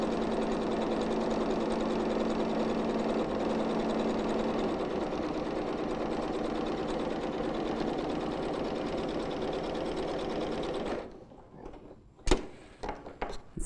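A sewing machine stitches a row along a boning channel, a steady loud mechanical whir running unbroken for about eleven seconds before stopping, followed by a few sharp clicks and handling noises.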